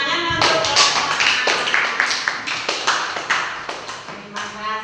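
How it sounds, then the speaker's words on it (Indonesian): Schoolchildren in a classroom clapping for a group, a close, loud burst of rhythmic clapping that settles into a steady beat of separate claps for about five seconds. "Tepuk tangan untuk kelompok A."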